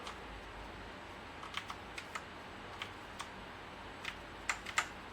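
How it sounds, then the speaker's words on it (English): Sparse keystrokes on a computer keyboard, typed one-handed during a game, sound as irregular soft clicks spread over a few seconds, clustering near the end with a couple of sharper taps, faint and close over quiet room noise. "I'm trying to play this with one hand on a keyboard"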